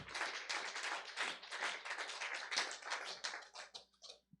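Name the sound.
congregation applauding in church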